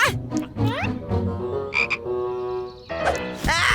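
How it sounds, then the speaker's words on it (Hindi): Cartoon frog croaking in an animated comedy scene, a run of warbling, rising calls that fills the clip with background music and effects around it. "मेरे पैंट में एक मेंढक है।"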